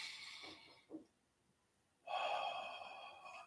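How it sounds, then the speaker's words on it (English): Two slow, deep breaths: a soft inhale with a brief gasping catch, then quiet, followed by a long, steady airy exhale that carries on to the end, close to the microphone. "take 2, 3 very deep, slow breaths"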